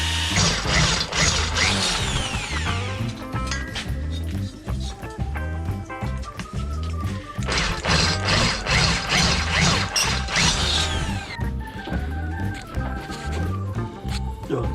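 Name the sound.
cordless battery drill left running to cool down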